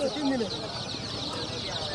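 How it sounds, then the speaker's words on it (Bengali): Chickens peep and cluck among crates of chicks at a rural Bengali livestock market, high chirps over a busy murmur, with voices talking nearby. "এগুলো কি মুরগির বাচ্চা"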